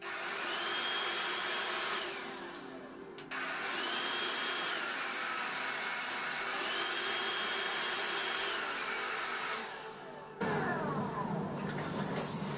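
Grundig VCH 9632 vacuum cleaner motor running, a loud steady whine that dips and rises as it switches between low and high speed, with a brief drop near the middle and a harsher burst at the end.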